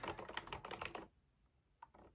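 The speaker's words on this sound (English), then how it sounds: "what I was typing there earlier is a secret" Soft, close clicking of fingers typing on a computer keyboard in a quiet ASMR setting: a quick run of keystrokes for about a second, then silence and a couple of isolated taps.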